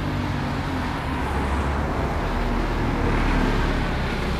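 A bus in street traffic passes by with a broad, steady roar of engine and road noise, fairly loud and continuous, with no voices.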